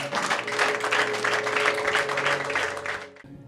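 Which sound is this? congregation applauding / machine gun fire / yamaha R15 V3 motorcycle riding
congregation applauding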